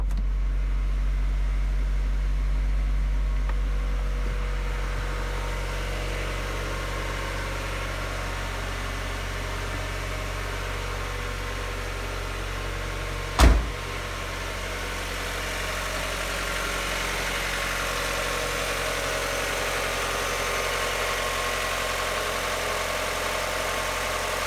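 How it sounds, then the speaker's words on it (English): A Mazda Miata engine idles steadily after a cold start, having sat unused for a couple of days, with a constant mid-low hum and one brief sharp knock partway through. "Obviously this is a cold start"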